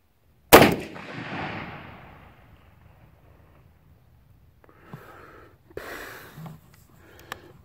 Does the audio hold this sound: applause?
no